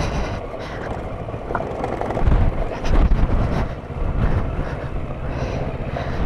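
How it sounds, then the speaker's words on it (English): Heavy wind buffets the microphone while riding a Kawasaki Versys 650 off-road on a Cornwall trail, a loud, rough, continuous roar with gusty surges and a low engine drone beneath. "It's a bit windy up here today, again. Very windy, actually."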